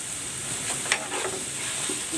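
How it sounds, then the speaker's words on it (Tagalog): Onion, ginger and garlic sauté in hot cooking oil in a pan, giving a soft steady sizzle broken by a few quick stirring scrapes. "Igisa natin ito dito hanggang sa mag golden brown."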